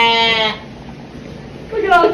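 Young goats on a farm bleat near and loud, one wavering cry at the start and another at the end, with a quiet stretch of faint background between them.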